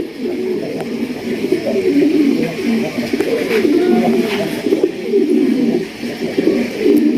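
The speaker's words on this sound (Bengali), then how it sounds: "ডাকের কবুতর আরও এক ডাকটা শোনেন আর স্টাইলটা দেখেন" Cooing pigeons at a wholesale pigeon market, among them a black pair, give a steady low murmur of overlapping coos that carries on without a break under general background hubbub.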